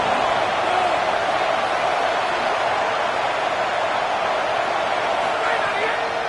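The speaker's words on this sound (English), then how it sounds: "Decibels rising as the crowd gets behind this defense on third down." Stadium crowd roaring on third down in the CFB 27 college football video game, a dense, continuous wash of cheering held at steady loudness throughout.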